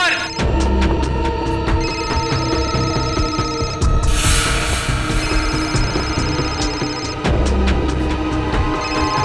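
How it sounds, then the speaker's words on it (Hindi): A mobile phone rings repeatedly in a loud, steady electronic tone, close by, with a brief noisy burst partway through before the ringing resumes. "सालुंके साहब का फोन तो यहीं पे बज रहा था ना?"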